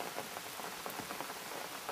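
Heavy rain falls in a steady, dense hiss with no other sounds, close and constant for the whole stretch.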